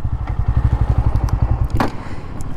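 A Bajaj Pulsar N160 motorcycle rolls to a stop: a loud, close engine throbs rhythmically at low speed, with some clatter and a brief scrape as the bike settles, and its steady running continues.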